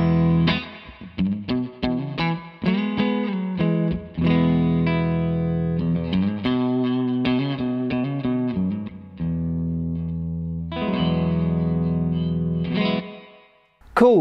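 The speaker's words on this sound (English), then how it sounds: "This is a tone print that pedal show made. It's kind of a spring type reverb." Electric guitar played through a digital pedal set to a spring-type reverb tone print, with notes and chords trailing into a wet, lingering tail and a clear decay in the pauses.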